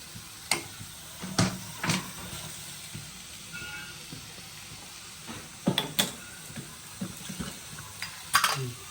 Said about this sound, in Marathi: मी कांदा भाजून घेणार आहे